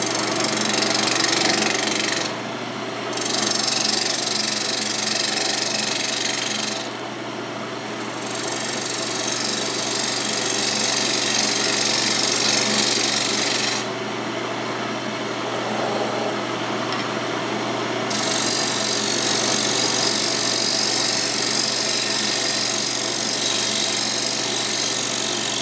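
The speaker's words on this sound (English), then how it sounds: "I'm going to use this bowl gouge and clean out the outside edge of this" A bowl gouge cutting the outside edge of a segmented wooden bowl spinning on a lathe, a loud, steady rough roar of tool on wood with a few brief pauses, close and with no talk.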